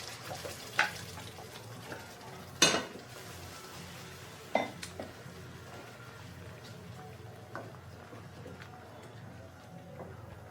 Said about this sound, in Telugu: ఇలా కలుపుతూ ఉండాలండి. పచ్చి వాసన పోయే వరకు మనం కలుపుతూనే ఉండాలి.